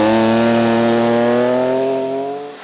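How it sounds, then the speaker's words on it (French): Air-cooled flat-six Porsche rally car engine at a Quebec championship rally, a loud sustained note with strong harmonics that rises slowly in pitch, then fades briefly at the very end. "Les 6 cylindres à plat refroidis par air remportent définitivement le prix du moteur au son le plus distinctif."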